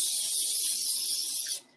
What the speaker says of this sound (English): I'm going to use nonstick spray because it's pretty damn simple.